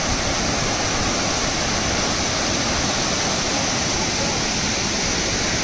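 Kusrampalli waterfall on the Telangana–Karnataka border roars in a loud, unbroken wash of rushing water that fills the whole clip, with no talking.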